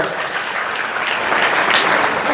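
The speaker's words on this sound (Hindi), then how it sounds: "ताली बजा के प्रभु के नाम की महिमा" A congregation claps in praise during a church sermon, a dense, steady burst of many hands that stays loud and close from start to end with no voice over it.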